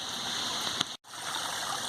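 Steady rain falls in a backyard, a continuous broadband hiss with a short gap of silence partway through.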